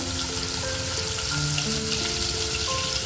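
Ginger garlic paste and a pinch of turmeric fry in a pan with mustard seeds for a surmai fish curry, giving a loud, dense, continuous sizzle that crackles like rain on a surface.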